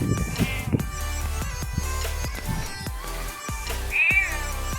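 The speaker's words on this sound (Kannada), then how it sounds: "ನೋಡಿ ಫ್ರೆಂಡ್ಸ್, ಇದು ಬೆಂಗಾಲಿ ಕ್ಯಾಟ್ ಹೇಳಿ." A Bengal cat at a pet rescue centre in Sirsi meows repeatedly up close, a string of short, tonal calls with a higher, wavering cry near the end, and no voices.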